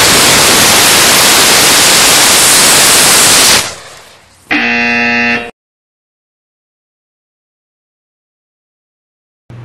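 Sugar and potassium nitrate rocket motor fired in a static test through a 12-inch steel blast tube: a loud, steady roaring hiss for about three and a half seconds, a brief dip, then a short harsh tonal buzz before silence.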